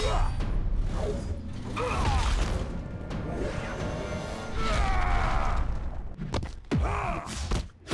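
Bombs hurled in the fighting game Injustice: Gods Among Us on iOS, heard as a string of whooshes, crashes and thuds with mechanical clanks, loud and busy, ending in a few sharp impacts.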